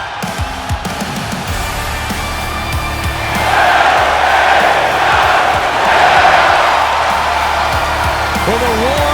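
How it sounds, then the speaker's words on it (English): An arena crowd in the WWE 2K25 wrestling video game roars continuously, then swells louder partway through into a broad, sustained wash of cheering. "the roar of the crowd tells you all you need to know"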